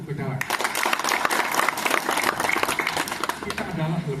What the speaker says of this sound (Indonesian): Tepuk tangan untuk pecalang